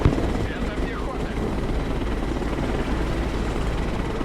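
Enemy helicopter in the video game Broken Arrow, a loud continuous rotor drone with rumbling low end and scattered distant gunfire, while a voice talks over it.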